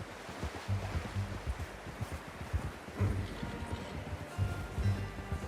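A horse's hooves clip-clop at a steady walking pace in the Western video game Red Dead Redemption 2, close and moderately loud over a soft outdoor ambience.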